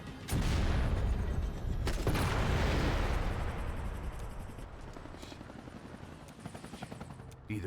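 Helicopter in the video game Max Payne 3, a loud steady rotor roar with a deep rumble that fades slowly over several seconds and is broken by sharp bangs like gunfire.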